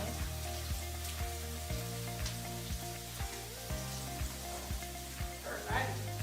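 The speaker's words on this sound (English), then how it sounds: "Do the same thing with our portobello. Gonna let those saute for a little bit." Portobello mushrooms sauteing in a pan beside other cooking taco fillings, a soft continuous sizzle under a low, steady hum with occasional light clicks.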